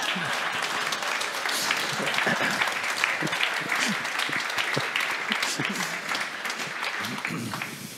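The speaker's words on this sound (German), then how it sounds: "Na, das wäre Applaus jetzt wert vielleicht." A lecture audience in Germany breaks into sustained, loud applause that carries evenly throughout, a broad wash of many hands clapping together, with some voices audible under it.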